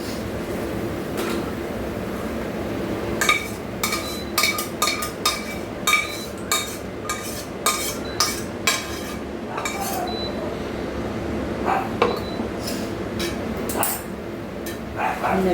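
A cooked egg is tipped and scraped out of a metal pan, with a close, irregular series of sharp clinks and scrapes of utensil against pan.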